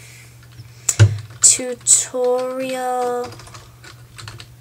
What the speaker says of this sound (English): And then you can just type like text over it